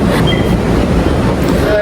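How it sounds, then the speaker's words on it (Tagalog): A train stands at a station about to depart, its loud close rumble and rattling carriage noise filling the space, with brief squealing tones and faint voices in the background. "Bilisan mo kasi aalis na yung tren."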